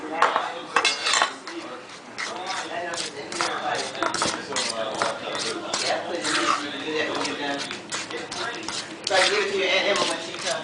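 Sugar being mixed into a no-bake raspberry cheesecake filling in a bowl, with repeated clinks and scrapes of a utensil against the dish in a quick, uneven rhythm while a person talks over it.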